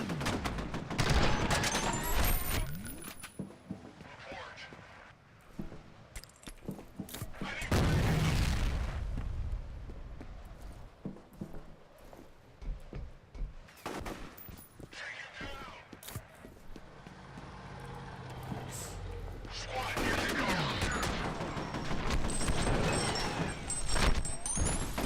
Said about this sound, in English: Oh, they're shooting at me already?